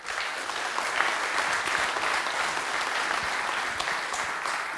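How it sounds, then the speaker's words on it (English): Steady applause from a conference audience at a networking event, honoring speaker Bert Hubert; dense, even clapping throughout with no voices over it. "Give Bert a warm applause."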